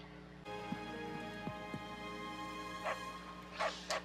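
A dog barks a few times in the video game Fire Emblem Three Houses, short sharp yaps over a steady ambient hum, with a quiet whimpery call near the end.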